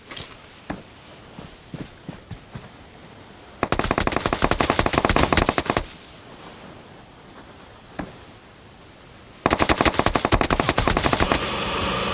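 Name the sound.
gunfire in PUBG video game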